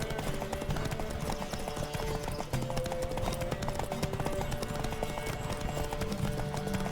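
Rapid galloping hoofbeats from a racing horse in The Witcher 3, a continuous drumming rhythm lasting the whole stretch over background music, with faint voices now and then.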